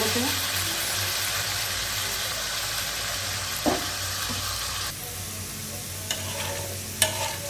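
Food frying in a pan with turmeric added, for a Bengali dish of taro stolons and fish roe: loud, steady sizzling with occasional stirring scrapes and clinks, no talk.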